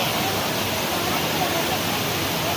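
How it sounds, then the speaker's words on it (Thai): An indoor waterfall in a shopping mall pours down from an upper floor, giving a steady, loud broadband rush of falling water that fills the whole clip without pause. "น้ำตกนี่ขึ้นมา ลงมาจากชั้นบนเลยนะคะ"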